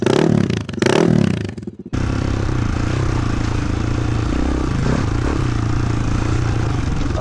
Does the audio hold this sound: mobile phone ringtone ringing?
no